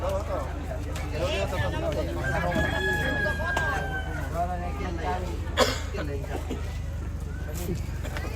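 A rooster crows at a rural funeral gathering in Toraja, its drawn-out call rising over steady background chatter and crowd babble, with people talking nearby throughout.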